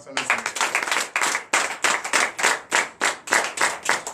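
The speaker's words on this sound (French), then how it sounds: "Donnez des acclamations au Seigneur." A church congregation claps and cheers in praise during an evening deliverance and prophecy service, with dense, rhythmic applause sustained throughout and voices mixed in.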